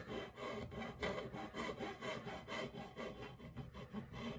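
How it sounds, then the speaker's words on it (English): A metal file rasps back and forth along the wooden edge of a guitar fingerboard, making quiet, close, rhythmic gritty strokes at a steady pace with no voices. "So my method is, I take a file"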